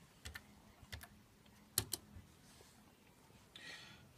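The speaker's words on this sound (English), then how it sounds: "we need to type another command" A computer keyboard clicks in a few quiet, sparse keystrokes, a short double tap in the middle standing out slightly louder in an otherwise still room.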